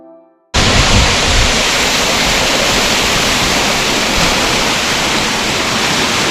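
Roaring waterfall in the Darma valley, Uttarakhand, reached by a short half-kilometre trek; after a brief quiet start, a loud, steady broadband rush of falling water fills the scene without a break.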